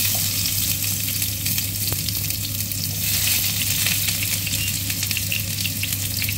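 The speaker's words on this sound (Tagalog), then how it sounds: "Gigisa muna po tayo. Yan po, mainit na po ang ating kawali. Ilalagay na po natin ang bawang." Garlic sizzles after being dropped into a hot pan to sauté, a loud, steady frying hiss that runs unbroken throughout, with a faint low hum beneath and no talking.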